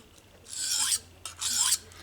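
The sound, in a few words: knife blade sharpened on Atoma 400 grit diamond stone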